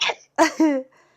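A sharp sneeze bursts out close by after a short breathy intake, ending in a brief voiced tail, then quiet.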